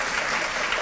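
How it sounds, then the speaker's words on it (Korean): An audience at a high school youth unification debate final gives the judges a short burst of steady, even applause that fills the room. "심판분들에게도 한번 박수 부탁드리겠습니다"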